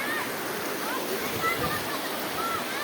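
Flowing water of the Tanay river, a steady broadband rush heard up close, with voices talking over it.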